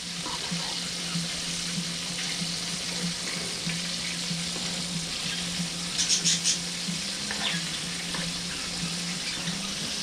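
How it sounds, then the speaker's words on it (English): Chicken wings fry in a pan with a steady, close sizzle and a low hum underneath, plus a brief clatter partway through and no talk. "I'll flip these wings again"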